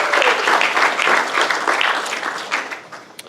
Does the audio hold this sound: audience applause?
yes